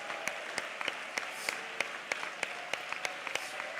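A church congregation claps along in a steady, rhythmic beat, sharp evenly spaced claps over a soft background wash, moderately distant and fairly quiet.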